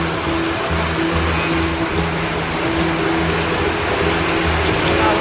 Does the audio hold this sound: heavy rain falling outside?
yes